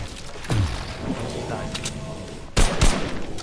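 Shots in an online shooter game crack out in sharp bursts, one early and a louder pair near the end, over steady game ambience.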